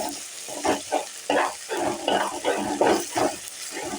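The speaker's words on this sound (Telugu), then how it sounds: "ఈ మసాలా వేగాలన్నమాట." Spice masala frying in a pan for a potato curry, with steady sizzling broken by rhythmic scraping stirs about twice a second, close and moderately loud, no voices.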